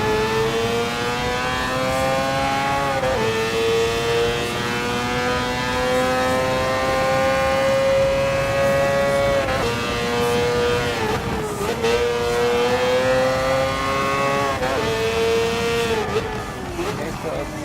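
Mazda 787B rotary race car in Gran Turismo Sport, its high-pitched rotary engine screaming loud and close, climbing through gears with brief drops at each shift, and a voice talking over it.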